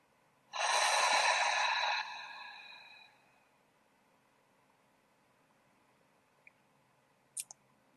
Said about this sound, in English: You might even take a few audible exhales.